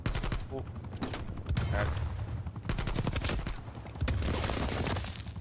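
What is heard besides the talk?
gunfire in video game Call of Duty Black Ops Cold War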